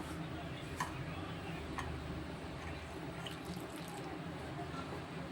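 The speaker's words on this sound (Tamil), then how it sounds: "தண்ணி வந்து நம்ம பார்த்துக்கிட்டே தான் ஊற்றணும்" Water is poured steadily into flour dough for omapodi (omam mixture), giving a continuous close trickling wash that runs throughout with no break.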